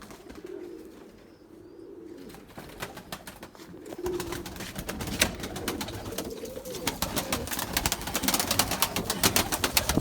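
Pigeons cooing in low, soft repeated calls, joined by a dense flurry of clicks and flapping that grows louder toward the end.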